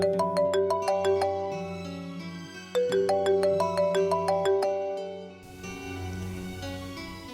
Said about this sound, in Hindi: और फोन भी काफी देर से बज रहा है।